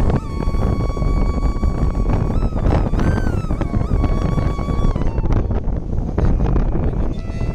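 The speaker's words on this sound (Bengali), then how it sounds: "সেই মুহূর্তে প্রচুর পরিমাণে বাতাস বইছে" Strong wind roars across an open river bank on a char island in rural Bangladesh, buffeting loudly and continuously, with faint tonal whines rising and falling beneath the gusts.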